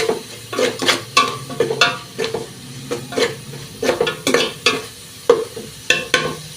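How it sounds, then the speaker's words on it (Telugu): Whole spices deep frying in oil for egg biryani, with repeated stirring clatters from a utensil against the pot over a steady low sizzle, close and moderately loud. "ఇవన్నీ అయితే ఒకసారి డీప్గా ఫ్రై చేసుకోవాలి."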